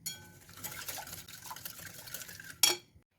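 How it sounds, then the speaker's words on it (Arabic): A spoon stirs basbousa cake batter ingredients in a bowl with soft, close clinks and scraping for a few seconds, ending in a sharper knock against the bowl. "دابا غنخلط هاد المكونات جيدا ونرجع معكم."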